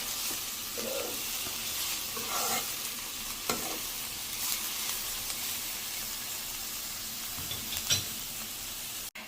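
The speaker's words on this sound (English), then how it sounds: "I have to mix it. I have to saute a little bit." Onions sauté in a pan with a constant soft sizzle, joined now and then by gentle stirring scrapes and a few light utensil taps, close and moderately quiet over about nine seconds with no voices.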